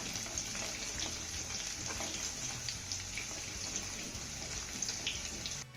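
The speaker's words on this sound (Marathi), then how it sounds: "आता हा लसूण आपण हलक्या सोनेरी रंगावरती परतून घेऊया." Chopped garlic sautéing with cumin seeds in a pan gives a steady, even sizzle and hiss, fairly quiet and continuous, with no talking.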